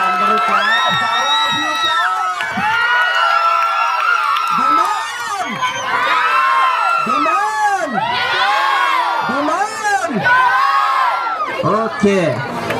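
A lively crowd at a cake cutting during a grand welcome road show cheers, whoops and shouts continuously, with excited children's voices and bursts of clapping forming a loud, dense roar throughout.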